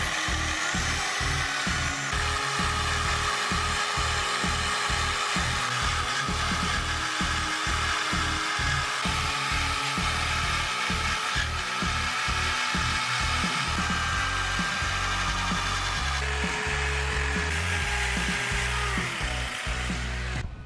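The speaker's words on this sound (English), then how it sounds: "So first pass of the drill on the back of the engine." A power drill whirs steadily with a wire brush scrubbing the aluminium back of a Ducati Hypermotard engine, a continuous harsh grinding with rhythmic pulsing, close and loud throughout.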